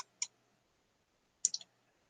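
A computer mouse clicked while navigating to a Grades tab in a Canvas course page: a single click, then a quick cluster of two or three clicks about a second later, close and crisp in an otherwise quiet room.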